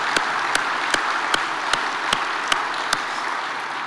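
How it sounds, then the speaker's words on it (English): Applause from an audience at the North Dakota Transportation Conference, held in winter, as a steady wash of clapping that carries on alone, with regular sharp thumps punctuating it. "let's give a round of applause for everybody that's working to keep these roads open all winter."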